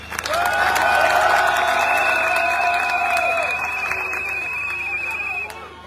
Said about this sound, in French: Applaudissons cette prouesse